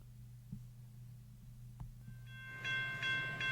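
A train horn sound effect blares in over a low rail rumble and hum, with a few soft knocks before it, rising to a loud sustained tonal blast near the end.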